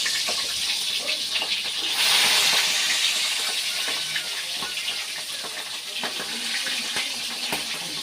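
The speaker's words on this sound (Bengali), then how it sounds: "মাছের মাথাগুলো এবার ভেজে নিচ্ছি।" Fish heads sizzle in hot mustard oil in a kadai, a dense steady hiss and crackle that swells briefly louder partway through, with sporadic sharper pops and no voices.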